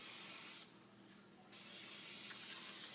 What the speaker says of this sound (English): I'm spraying my casserole dish with olive oil spray.